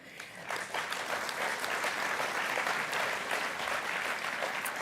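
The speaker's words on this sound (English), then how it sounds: "Don't applaud me." Sustained applause from a large audience at the SNP party conference in 2023, dense clapping filling the hall at steady volume for several seconds with no speech over it.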